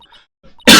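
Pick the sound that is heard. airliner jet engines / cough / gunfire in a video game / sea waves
cough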